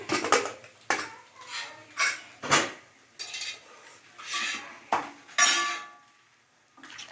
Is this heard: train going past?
no